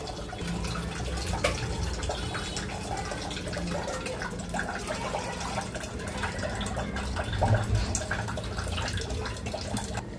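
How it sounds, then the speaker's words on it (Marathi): Hot water poured into a pan of fried masala with oil risen to the surface, a steady liquid pour and bubbling running continuously and fairly close, with a slight surge near the end. "आता आपण त्यात गरम पाणी घालणार आहोत, चवीनुसार मीठ घालणार आहोत."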